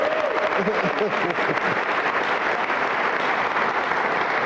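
An audience at a chamber of commerce and school district scholarship awards event claps in a steady, full round of applause, with a brief voice audible at the start.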